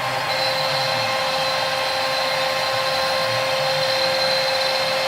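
A CNC router cuts a workpiece while a dust extractor runs, making a loud, steady roaring whine with a constant high tone, unbroken and close for the whole stretch, with no speech.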